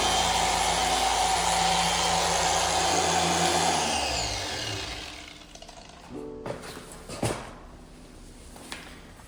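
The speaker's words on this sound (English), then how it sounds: "Let's do some polishing." A power polisher works rust on a 1962 VW Samba bus, whining loudly and steadily before spinning down over a few seconds, followed by scattered clunks and handling noises.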